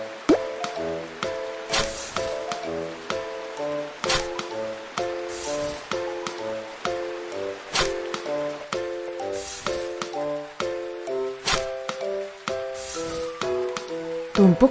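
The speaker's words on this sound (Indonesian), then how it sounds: "Isi karung dengan pasir untuk membuat karung pasir." Cartoon squelching and dripping effects repeat in a steady rhythm as sacks are filled with sand to shore up a flooding riverbank in a BabyBus children's game, set over bright game music with no talking.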